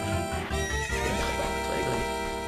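A horse in Zelda: Ocarina of Time Master Quest whinnies loudly and close, its game-sound neigh standing alone over a faint hoof clip-clop, with no talking.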